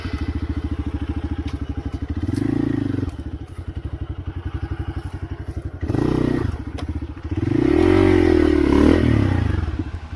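Hero XPulse motorcycle idling with a steady low putter while being walked out over a rocky trail, with louder bursts of engine and scraping clatter of tyres on stones, a few thumps mixed in.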